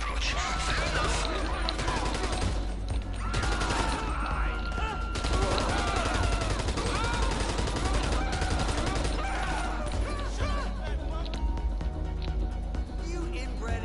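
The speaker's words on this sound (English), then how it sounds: "I deduce from the sound of gunfire that you have not gone for the stealthy approach." Sustained gunfire in GTA V during Cayo Perico heist prep, with bursts of automatic fire and overlapping shots crackling continuously at steady loudness, mixed with busy game sounds and some voices.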